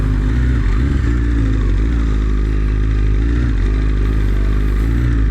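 A BMW S 1000 RR motorcycle being ridden, its engine a loud, steady, close mid-pitched drone with a constant low rumble and slight shifts in revs, continuing throughout with no one talking.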